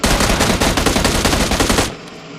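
Rapid automatic gunfire in the PUBG Mobile game, a loud, dense burst of shots that stops abruptly near the end and leaves a quiet tail.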